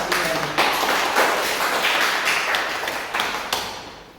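Applause from an audience honouring teachers at a school physical education training session, a dense wash of many hands clapping steadily and loud throughout, with a few sharper bursts, no talk over it.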